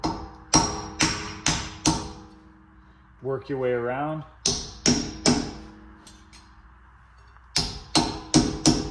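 Hammer striking a chisel to knock the dust cap off a 2012–2019 Nissan Versa rear wheel hub, sharp metallic taps in quick bursts of four, close and loud, with someone speaking briefly between the strikes.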